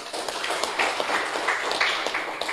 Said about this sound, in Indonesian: Tepuk tangan untuk NU.